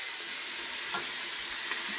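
Paneer cubes lightly frying in a pan give a steady, soft sizzle with faint stirring clinks, close and even throughout, with no talking.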